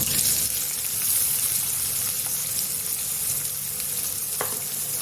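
Chopped onions sizzling steadily in hot oil with whole garam masala and bay leaves, a dense continuous frying hiss close by, with occasional stirring scrapes and no talking.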